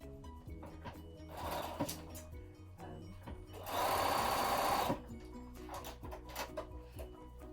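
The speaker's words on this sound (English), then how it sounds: "you're going to stitch right over that fold and right round that long curve" A sewing machine stitches binding onto a patchwork lampshade, a close, steady mechanical whirr in short runs, with a longer loud burst in the middle and small handling clicks and knocks between runs.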